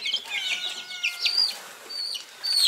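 A ginger hen in a poultry yard clucks in short bursts close by, with other chickens murmuring faintly around her.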